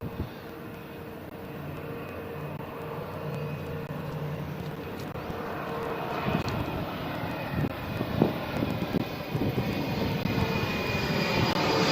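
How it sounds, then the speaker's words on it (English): A fixed-wing propeller airplane drones overhead, a steady engine hum that swells gradually over about twelve seconds against outdoor background noise, with no talking. "Here comes the aeroplane."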